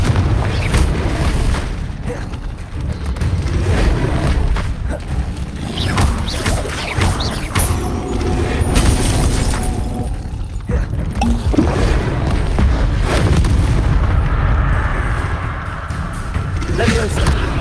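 Confringo spell blasts exploding during combat in the Hogwarts Legacy video game, a loud, dense wash of repeated booms and mechanical clatter that runs continuously, with battle noise layered throughout.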